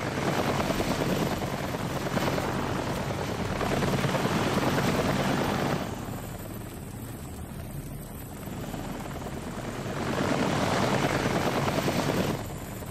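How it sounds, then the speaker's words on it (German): A helicopter in the horror game Daymare 1998 roars with a dense, continuous rotor wash, loud and close, swelling and easing in waves for the whole stretch. "Der Hubschrauber macht auch ganz viel."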